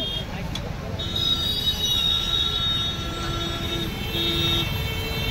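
A train crosses a rail bridge at the Kumbh Mela 2025 grounds, its wheels squealing with high metallic whines over a steady rumble of rolling carriages that continues throughout.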